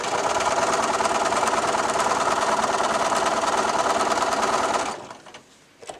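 A sewing machine stitches straight-grain binding onto a patchwork quilt, running loud and steady for about five seconds before it stops, leaving a quiet tail with a faint click at the end.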